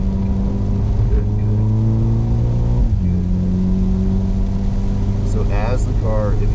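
A Mercedes SL45 accelerates around the Harris Hill Road track, its mid-pitched engine droning steadily with a shift in tone midway, under a person talking throughout.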